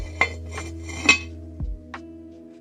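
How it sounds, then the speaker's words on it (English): A metal lid set over a pot of steak chili, with a few sharp clinks and clanks at uneven intervals, loud and close, no talk. "we're going to place our lid over top"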